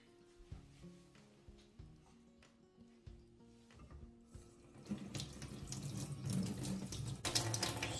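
Tap water runs into a sink while food is washed. Quiet clinks and handling noises come first, then the water starts and grows into a loud, steady splashing stream at close range. No one speaks.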